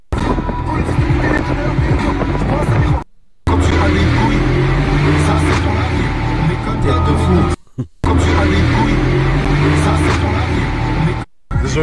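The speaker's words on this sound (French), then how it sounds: "des fois c'est l'échappement Brabus, il a un effet en fait sur mon état psychologique, tu vois, dès que ça commence à faire du bruit" A Brabus car roars through a tunnel, its exhaust booming loud and close as the engine revs rise and fall through several gear changes, with a few brief cut-outs between pulls.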